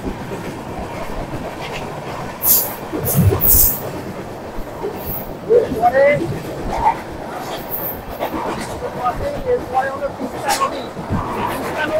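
The Kanchankanya Express rolls along rails through the Dooars with a continuous rumbling clatter, irregular wheel knocks and clicks rising over the steady running noise, fairly close and moderately loud.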